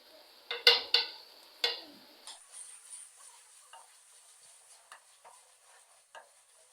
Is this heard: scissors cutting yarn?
no